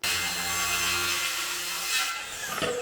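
A saw cuts through a whitewood board in one steady, loud, close rasp. It runs continuously for nearly three seconds, then breaks off into a short clatter as the cut finishes.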